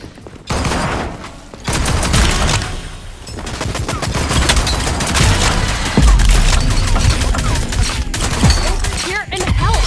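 Gunfire in a Switchblade video game, dense bursts of shots and explosions filling the clip almost without pause, loud and close, with a voice talking over it.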